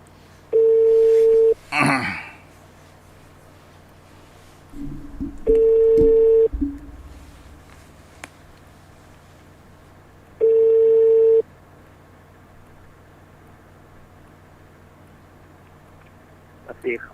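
A phone-in call line rings out in three separate steady tone bursts spaced several seconds apart, with brief clicks and dialing noise between them over a faint hum.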